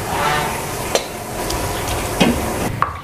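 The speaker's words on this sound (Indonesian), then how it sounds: "Tumis dulu bawang merah dan bawang putihnya." Shallots and garlic stir-fry in plenty of oil with a steady, close sizzle, broken by a few sharp clicks of a spatula scraping the pan.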